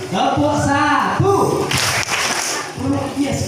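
Group of children at a Quran learning class clapping together once on cue, a single sharp burst of claps in the middle, with young voices chattering and singing before and after it.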